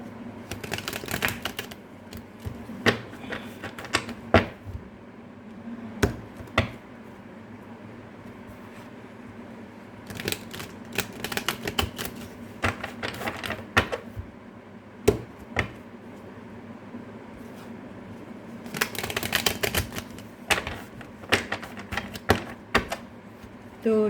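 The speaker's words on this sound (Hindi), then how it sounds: "तो अच्छे से शफल कर लेते हैं।" Tarot cards shuffled by hand in repeated bursts of quick riffling and slapping, close and crisp, with short pauses between rounds and no talk.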